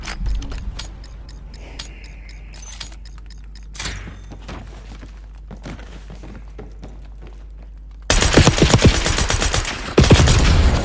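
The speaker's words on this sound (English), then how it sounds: "What's going on? Gunfight." Gunfire in the Warzone video game: quick bursts of automatic fire and scattered shots, then a much louder, dense volley of rapid gunfire near the end.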